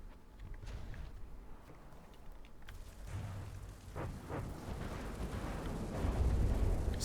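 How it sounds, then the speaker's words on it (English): Small missiles pelt a ship in From the Depths, a stream of muffled booms and rumbling impacts that builds from quiet to a heavier, louder barrage toward the end. "Small missiles constantly pelting it."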